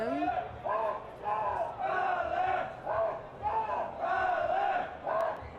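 A crowd of supporters chants a Finnish team's battle cry in loud, rhythmic, repeated phrases that rise and fall in steady bursts throughout.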